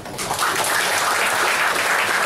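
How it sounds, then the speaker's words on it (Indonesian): A congregation at a pastor's sermon breaks into applause: dense, loud clapping that swells within a fraction of a second and holds steady for about two seconds. "Tepuk tangan."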